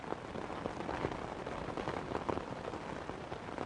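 Steady rain falls continuously on an outdoor concert setting, a dense even hiss with scattered patters, with no voices.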